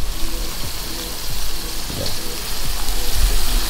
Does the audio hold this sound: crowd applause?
no